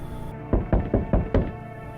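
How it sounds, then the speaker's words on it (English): Knocking on a door in the video game No, I'm not a Human: five firm, evenly spaced knocks, fairly loud and close, over a low steady ambient hum. "Just don't go open up for any of them yellows that come knocking."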